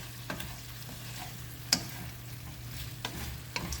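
Catfish dry-frying in a pan, soft continuous sizzle with a few quick scraping stirs, faint and close, with no talking.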